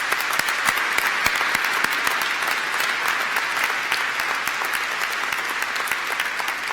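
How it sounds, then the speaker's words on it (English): A large audience at a City of Glasgow College graduation ceremony applauds steadily, a dense, even wash of clapping that holds at the same level throughout without voices over it. "I think our students and our staff deserve a huge round of applause"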